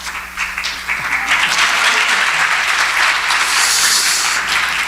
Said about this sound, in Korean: 우리 큰 박수로 목사님 축복하겠습니다